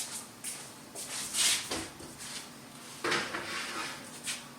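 Metal banana bread pans going into a home oven, with a few scattered clanks and knocks and a soft rattle of oven racks at close range.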